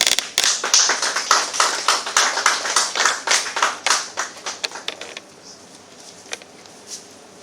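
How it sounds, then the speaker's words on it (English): Audience applause at an IAS/IPS preparation workshop during a token-of-appreciation presentation: close, sharp hand claps in a dense burst that thins out after about five seconds to a few scattered claps. "Round of applause."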